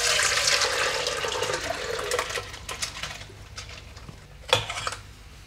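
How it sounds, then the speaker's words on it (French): Water drains from soaked buckwheat in a colander, starting as a close splashy pour that thins to trickles and drips, with a sharp clink near the end. "je vais les placer dans une passoire, me débarrasser de toute l'eau qu'il y a autour"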